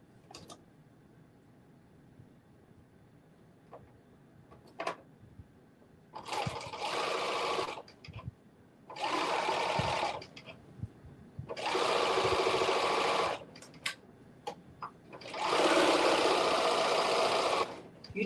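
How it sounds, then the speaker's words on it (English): A serger stitching around the neckline of a caftan, running in four loud bursts of several seconds each, separated by quiet pauses with faint handling clicks, with no talk. "Serging around this neckline, I think, is also going to be really helpful"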